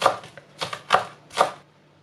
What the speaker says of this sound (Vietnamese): Hành trắng này mình phải đập đi dọc ra, sau đó cắt nhuyễn luôn.